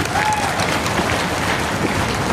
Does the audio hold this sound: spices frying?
no